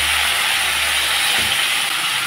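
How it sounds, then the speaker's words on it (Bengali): Cauliflower florets dropped into hot mustard oil in a wok give a steady, loud broadband sizzle and hiss that carries on evenly throughout, with no voices. "কড়াইতে দিয়ে দিচ্ছি সরষের তেল। গরম তেলের উপরে দিয়ে দিচ্ছি কপিগুলো"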